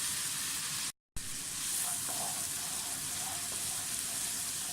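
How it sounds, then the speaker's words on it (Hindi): Potatoes and onions frying in oil in a pan for matar aloo pulao, a steady sizzle with bubbling crackles that runs through the whole clip apart from a short gap of silence near the start. "अच्छी तरह फ्राई करें।"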